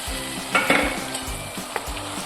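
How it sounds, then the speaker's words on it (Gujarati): Tomato puree sautés in a pan with frying onions for a dum aloo dish, a steady close sizzle with a few sharp stirring scrapes and clinks of a spoon. "હવે નાખીશું ટમેટાની પ્યુરી. 3 ટમેટાની પ્યુરી લીધી છે,"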